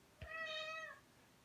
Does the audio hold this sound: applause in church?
no